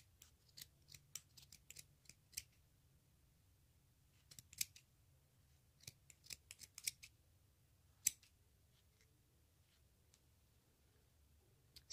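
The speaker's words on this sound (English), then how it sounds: "You see the reason why you need sharp scissors." Sharp scissor snips cutting yarn at close range, scattered clusters of crisp clicks and cuts, with quiet pauses between bursts over a low steady hum.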